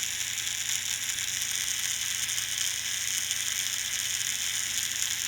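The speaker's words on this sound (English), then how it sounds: "when you press the S2 switch, the motor rotates faster" A small Snap Circuits toy motor spins faster while a press switch is held, giving a steady, high-pitched mechanical whir with a faint ratcheting rattle and no pauses.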